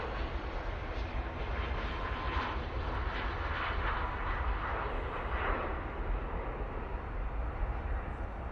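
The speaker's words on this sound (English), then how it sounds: "paying attention on the prop that's coming in." A propeller airliner, an ATR arriving from Dublin, approaches Manchester Airport, its steady broadband engine roar filling the whole stretch at moderate distance, with no talk over it.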